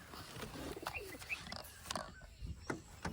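Pigeon cooing close by, a few soft low hoots repeated at an irregular pace over faint background noise, with no talking.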